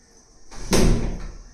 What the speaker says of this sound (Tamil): கதவு சாத்திட்டு வா.